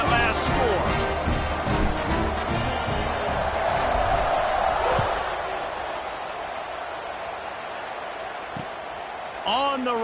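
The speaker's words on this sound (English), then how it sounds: "this crowd is buzzing after that last score" A football stadium crowd at a Memphis vs Tulane game buzzes loudly after a touchdown, a broad continuous roar that eases slightly, with a commentator talking over it.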